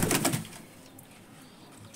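A guest pigeon in a loft makes a short, close burst of bird sound at the start, followed by quiet room tone.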